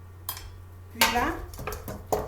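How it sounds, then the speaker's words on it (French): Small quails being stirred in a spicy marinade, with a few close clinks and scrapes of a utensil against a dish in short bursts. "je remue pour que les épices ça rentre dans les petits oiseaux"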